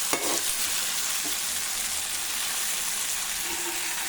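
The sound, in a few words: fish with masala frying in a pan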